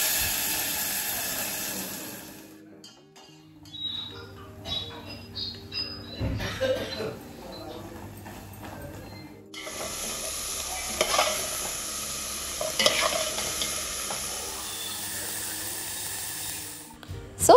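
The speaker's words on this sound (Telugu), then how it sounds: "ఆయిల్లో కొంచెం ఎండుమిర్చి, జీలకర్ర అండ్ ఆవాలు వేస్తున్నాను అంతే" Dry red chillies, cumin and mustard seeds tempered in hot oil for a Navaratri offering, with loud crackling sizzle and bursts of popping, alongside stirring and scraping in the pan.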